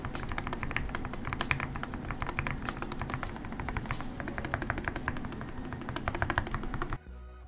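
Rapid, dense typing on a Polar 65, a 65% metal-cased Hall Effect rapid-trigger gaming keyboard from Arbiter Studios, with crisp keystrokes clattering close and steady for about seven seconds before stopping abruptly.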